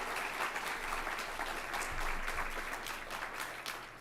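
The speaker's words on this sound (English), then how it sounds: "Crystal Ka'ai, let's give her a round of applause." Audience applause for Crystal Ka'ai at a White House Initiative event for Asian American, Native Hawaiian, and Pacific Islander communities, a steady, fairly distant crowd clapping with a faint low hum underneath.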